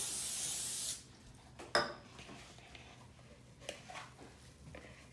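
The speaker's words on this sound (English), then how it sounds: "Make sure you spray the bottom. And then I'm also going to spray the board." A short hiss of cooking spray onto a board lasting about a second, then quiet with a few faint clinks and light handling noises.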